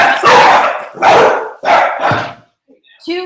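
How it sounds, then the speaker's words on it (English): Excited dogs bark in loud, close bursts, three or four harsh barks in quick succession followed by a short whimpering yip. "my dogs got all excited"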